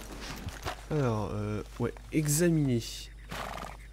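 A horse in a hunting video game gives whinnying calls alongside faint hoof sounds, heard close and mixed with someone talking over the game.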